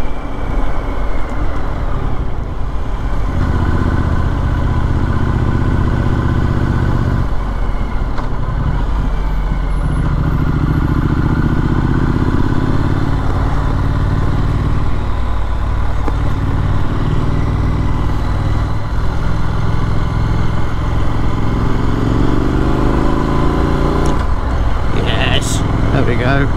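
Triumph Street Scrambler motorcycle engine running loud and close for the whole stretch, a continuous low rumble with shifting pitch and wind noise as the ride goes on.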